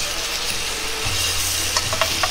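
Salmon dusted with potato starch fries over medium heat in a frying pan, giving a dense, steady sizzle, with a few faint taps near the end.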